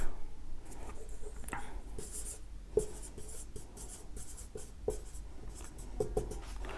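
Marker or chalk writing on a board during a Hindi-language class-10 math lesson on decimals, heard as a run of close scratchy strokes with short pauses and occasional taps, with no voices.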